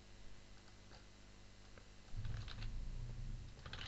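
Test credit card details are typed on a computer keyboard in a quiet room, a soft, steady run of clicks that grows busier and slightly louder partway through.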